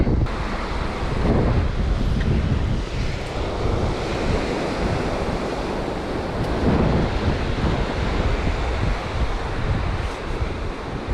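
Strong wind roars across a winter shoreline in Northumberland during cod fishing, a loud, continuous gusting rush blended with crashing surf, steady throughout with no voices.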